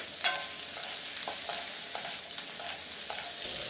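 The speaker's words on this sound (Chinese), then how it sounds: "再倒入切好的嫩笋，炒上10多秒的样子，加入青红椒一起炒制" Tender bamboo shoots stir-fried in oil with minced garlic, green and red peppers, a steady close sizzle broken by a sharp clank of a spatula and several scraping tosses against the wok.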